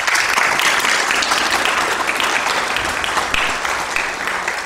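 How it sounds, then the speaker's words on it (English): A church congregation in a Presbyterian service stands and applauds, a loud, sustained wash of clapping from many people that fades slightly toward the end. "So, on your feet now, applaud God."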